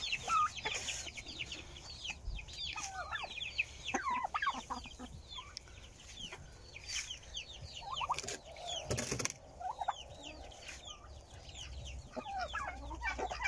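Chicks and chickens cluck and peep busily while being fed in a farmyard, with many overlapping calls near and far and occasional rustling and knocking sounds.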